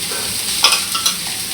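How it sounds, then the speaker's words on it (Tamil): Onions sizzling in a pan on a gas stove while being stirred, a steady close fry with a few brief scraping stirs, no voices. "சுத்தமாக வெங்காயத்தை போட்டுட்டு கொஞ்சம் நேரம் வதக்கணும்"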